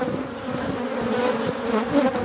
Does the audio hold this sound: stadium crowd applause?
no